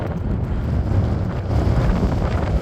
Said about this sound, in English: And that wind just isn't giving in.